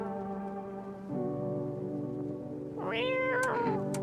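A video game cat meows close and clear, first with a sustained mew that shifts in pitch and then with a rising, wavering meow near the end.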